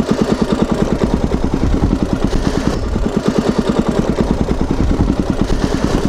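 An ATV engine runs after a crash at an offroad park, a steady close, throbbing idle with rapid regular pulses and a slight clatter, heard alone.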